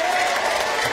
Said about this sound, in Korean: 박수 칠 일이 아니에요.